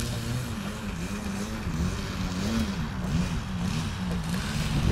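Small RC model airplane engine drones steadily while taxiing back on the ground, its pitch wavering up and down in a pulsing rhythm as the throttle is blipped, fairly close and continuous.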